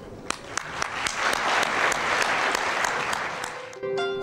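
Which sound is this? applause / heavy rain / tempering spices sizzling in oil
applause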